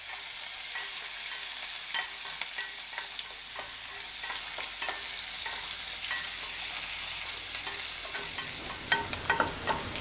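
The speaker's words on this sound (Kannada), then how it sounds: "ನೋಡಿ ಈರುಳ್ಳಿ ಚೆನ್ನಾಗಿ ಫ್ರೈ ಆಗಿದೆ" Sliced onion frying in a pan sizzles steadily up close, with spatula scrapes and stirring clicks scattered throughout and a cluster of sharper knocks near the end.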